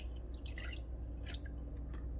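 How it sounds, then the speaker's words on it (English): A cup of water poured over birria meat in a pot, a faint, short splashing and dripping trickle against a low steady background hum. "Add a cup of water now."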